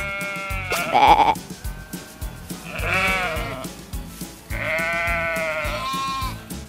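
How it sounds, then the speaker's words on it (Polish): Sheep resting on a farm bleat several times, with loud, wavering calls close by and short pauses between them. "Obok nich odpoczywają owce."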